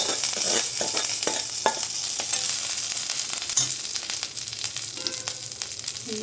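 Fried potatoes and onions hit hot oil with curry leaves, producing a loud, continuous sizzle with stirring scrapes and clinks running throughout, no talking.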